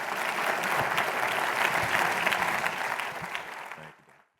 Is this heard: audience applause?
yes